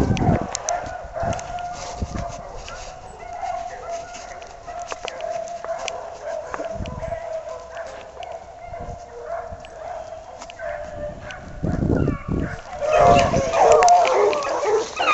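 A hunting dog barks in Tennessee woods during a January hunt, its calls sounding distant and ragged under constant outdoor noise that grows louder toward the end.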